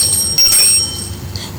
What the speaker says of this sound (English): you will hear my bell in this form